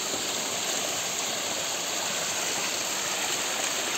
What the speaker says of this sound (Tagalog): Oh, ang ganda ng Lexter Falls guys.